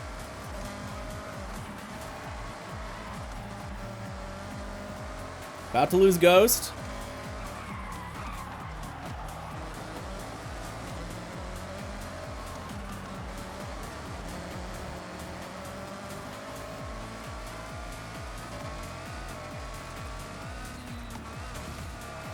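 Race cars in a Forza Horizon game roar along on a mountain touge run with a constant loud engine drone and a brief, sharp tire squeal partway through, while a player talks briefly over it.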